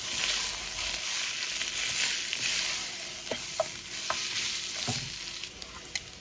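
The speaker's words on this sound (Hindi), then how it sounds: "लहसुन की पेस्ट डालूँगी और इसको भून लूँगी।" Garlic paste frying in a pot, a constant close hiss of sizzling oil broken by a few sharp stirring scrapes and taps of a spoon toward the end.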